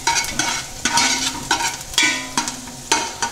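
Onions sweating in a pot for a bisque, a gentle sizzle broken by repeated spoon-on-pot knocks and stirring strokes at a loose, roughly half-second rhythm, close up with no talking.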